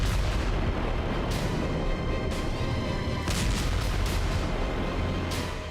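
Explosive charges aboard a Black Sea naval drone blast amid gunfire, heard as a dense, continuous roar of rumbling noise punctuated by several sharp bursts.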